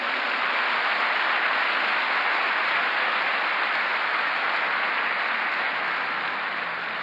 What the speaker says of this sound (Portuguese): Pode dar um aplauso a Jesus.